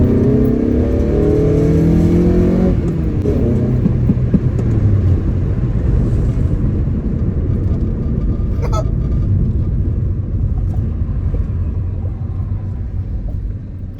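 Honda K24 engine in an Acura RSX revving hard from inside the cabin, a loud continuous rising and falling drone with a steady throaty rumble throughout, no talking.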